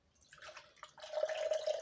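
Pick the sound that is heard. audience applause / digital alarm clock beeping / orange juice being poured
orange juice being poured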